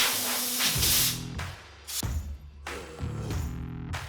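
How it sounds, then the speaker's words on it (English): An air compressor blows bursts of air over a freshly rust-blued part to dry it, several loud close hissing blasts separated by short pauses, with a low machine hum underneath. "I like to use the air compressor for drying."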